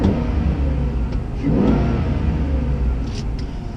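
A Chevy Silverado 2500HD fitted with an S+B intake idles and revs close by, a deep, throaty engine rumble that swells briefly before settling, with no voices present.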